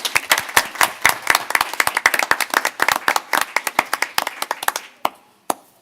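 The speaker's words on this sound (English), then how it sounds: "So let's give them one more round of applause." Round of applause for young entrepreneurs at a school board of education meeting, a brisk burst of close, dense hand claps that thins out and stops, with a last stray clap.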